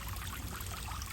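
A small backyard waterfall trickles steadily into a koi pond, a continuous close splashing wash with no voices.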